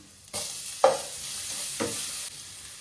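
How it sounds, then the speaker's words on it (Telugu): Garlic and onions fry in a pan for white sauce pasta, a bright steady sizzle with short scraping stirs, close and alone without any voices. "ఇది ఫ్రై అవుతున్నట్లే వైట్ సాస్ వేసుకుందాము."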